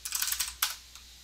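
Quick run of computer keyboard keystrokes, about ten close clicks in a rapid burst, then a sharper pair of taps and one faint final key, with no talking.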